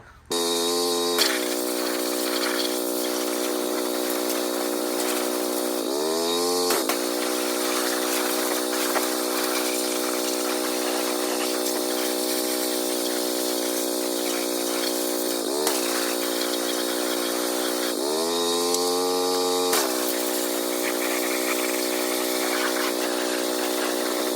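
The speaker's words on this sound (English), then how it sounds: "So now I'm going to pressure wash my engine bay." A loud, continuous high-pressure spray hisses with a steady motor whine as a Nissan 240SX engine bay is pressure washed, briefly dropping and rising in pitch a few times as the nozzle shifts.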